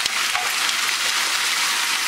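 Chicken is stirred in a hot pan for chicken curry, giving a dense, steady sizzle that carries close and bright throughout, without talking.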